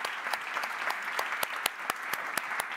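Audience applause at a hydrogen market conference, a steady patter of many hands with sharp individual claps popping out, moderately close and continuous throughout, with no talking.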